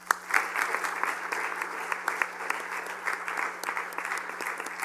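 Audience applause at a community event thanking a blood platelet donor, a steady mass of many hands clapping for about five seconds, moderately loud and sustained, with a faint hum beneath.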